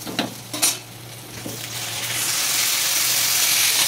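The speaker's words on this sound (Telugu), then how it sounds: "దీంట్లో టమాటాలు వేసుకుంటున్నాను." Chopped tomatoes drop into a hot pan of cooked ginger garlic paste with a few clattering stirs, then a steady, strengthening sizzle of frying takes over, close and continuous.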